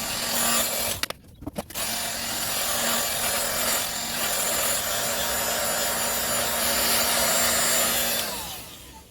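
An air blower runs steadily, drying fresh paint on a Suzuki Superdream motorcycle fuel tank; a loud continuous whoosh with a brief sputter near the start, then an even rush that fades out at the end.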